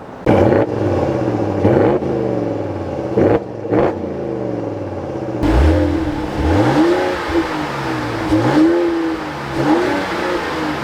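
Powerful engines of a 2026 Ram pickup 5.7L Hemi V8 and 3.0L Hurricane straight-six rev hard several times, pitch climbing and falling through deep, throaty exhaust notes, then settling into a rumbling idle between bursts.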